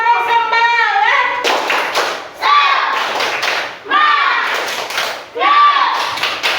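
Schoolchildren in an Islamic religious education class chant together and clap in sharp, rhythmic bursts, the hand claps arriving in three loud groups between stretches of sing-song voices.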